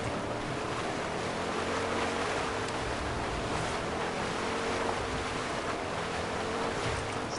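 A boat moves through water in the Fortnite video game, giving a continuous rushing wash of water and engine noise that stays steady and loud throughout, with no voices.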